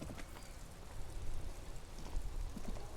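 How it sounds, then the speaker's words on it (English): Steady, quiet rain patters down in the detective role-playing game Disco Elysium, a faint, even wash of drops with no voices. "It's raining again."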